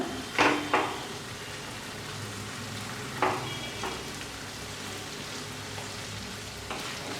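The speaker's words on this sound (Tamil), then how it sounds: "தக்காளி நல்லா வதங்குற வரைக்கும் கிண்டி விடணும்" Tomatoes sautéing in masala for egg kothu bread, a steady low sizzle with a handful of crisp spatula scrapes against the pan, the first two close together, the others spread out.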